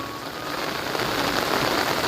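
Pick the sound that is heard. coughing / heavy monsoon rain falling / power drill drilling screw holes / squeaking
heavy monsoon rain falling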